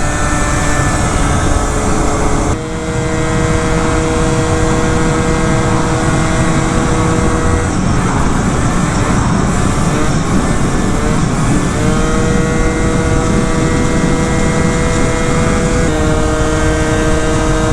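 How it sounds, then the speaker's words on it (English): Honda Zuma 70cc scooter engine, choked up after sitting, runs loud and close with a continuous buzzing drone that wavers and stumbles in pitch, dipping briefly and recovering several times. "This Zuma is not too happy right now. Look at her, she's sputtering, man."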